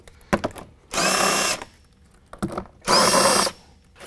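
Two loud bursts of an impact or power drill spinning out bolts on the muffler bracket of a Polaris RZR 1000, each lasting about half a second, with some clanking handling sounds between them.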